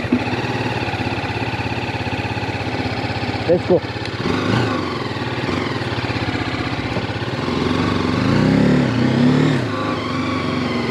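A TVS Apache RTR 310 motorcycle engine runs loud and close, idling with a steady throb before revving and pulling away, while someone talks over it.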